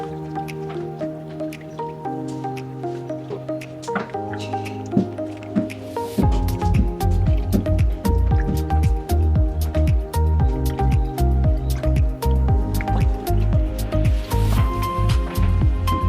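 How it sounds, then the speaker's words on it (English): Salt water is poured into bread dough mixture in a Haitian bakery, making close, wet squishing and dripping sounds in quick repeated bursts over steady background tones. "So now he's gonna pour the salt water"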